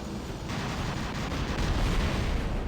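Robot weapons fire in the War Robots video game as a dense, continuous rumble of blasts and impacts, loud and unbroken, growing slightly heavier toward the end.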